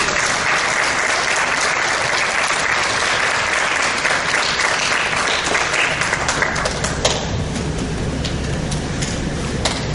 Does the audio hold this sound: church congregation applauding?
yes